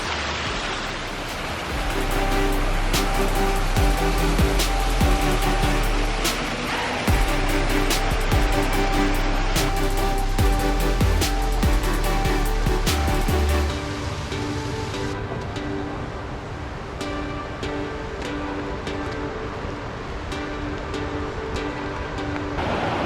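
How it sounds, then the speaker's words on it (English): A small waterfall cascade on a river trail at Burgess Falls State Park near Baxter, Tennessee, rushes steadily and loudly in a dense continuous roar, with no voices over it. "We came to another little cascade."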